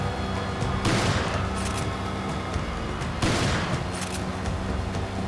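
Gunfire in the Resident Evil 5 video game: two sharp, loud bursts of shots over a dense, continuous game soundtrack, with no talk.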